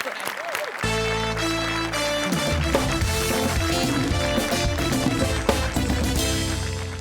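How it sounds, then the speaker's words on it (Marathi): Studio audience applause at a Marathi comedy sketch show, opening with a brief scattered patch before a dense, loud burst of clapping sustained over music-like tones and cheering throughout. "सावत्यासाठी एकदा टाळ्या वाजल्या पाहिजे"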